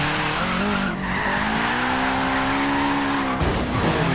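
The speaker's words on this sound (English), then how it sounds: "it also sounds very nice with that fully upgraded boxer motor." Fully upgraded Subaru WRX boxer engine in Forza Horizon 3 roaring loud and close as it revs steadily, with tyres skidding and squealing under power and a sharp burst near the end.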